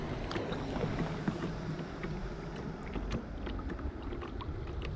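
A boat is paddled across water, with soft splashes and strokes over a steady wash of wind and water noise, close to the microphone and with no talk.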